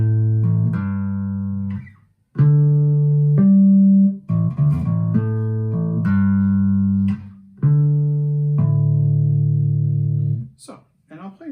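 Electric guitar harmonics playing the opening of a song: sustained bell-like chiming tones, several notes ringing in sequence with pauses between phrases, clear and close.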